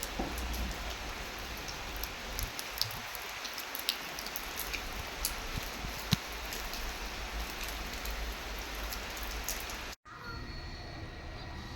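Rain falls steadily near a house, a dense, even patter with occasional sharper drips, continuous and moderately loud, with a brief cut near the end.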